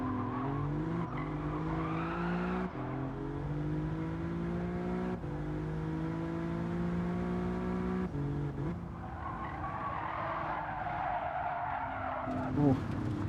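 An Alfa Romeo race car in Gran Turismo 7 laps a track, its engine note rising and falling through gear shifts while the tires squeal and skid through corners, with a person talking briefly over it.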